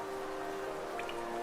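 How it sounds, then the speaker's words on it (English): Steady rain pattering on glass in the video game Hollow Knight makes a soft, continuous hiss over a faint low hum, with no voices. "I so love the sound of her rain upon glass."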